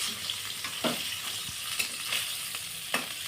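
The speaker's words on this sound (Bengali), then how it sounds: "আর আমার কিছুটা মাছ আছে আবার আমি ভেজে নেব" Silver carp fries in hot oil with a steady, dense hiss. Occasional stirring scrapes and light clinks sit on top of the sizzle, and no one speaks.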